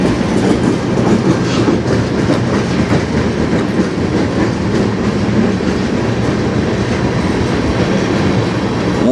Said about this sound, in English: This is my 3rd train in about 45 minutes of being here.